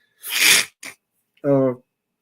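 A person sneezes sharply from allergies, then gives a short follow-up breath and a brief voiced snort or grunt, close and loud.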